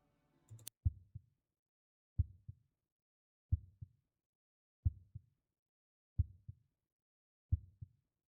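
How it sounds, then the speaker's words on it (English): Video game heartbeat effect: six evenly spaced double thumps, deep and close, pulse slowly against total silence after a brief opening sound. "I don't like the heartbeat sound effect."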